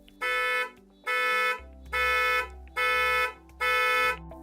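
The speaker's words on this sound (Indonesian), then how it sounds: "nanti suara klakson dan kedip lampunya harusnya bakal membantu saya menemukan mobilnya." A Hyundai Ioniq 5 horn sounded remotely: five loud, evenly spaced blasts of about half a second each with short gaps between them, heard alone.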